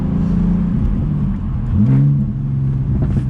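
A BMW M240i or Z4 sports car with a manual gearbox revs its engine in a steady, fairly close drone that swells and falls once midway, with no talking.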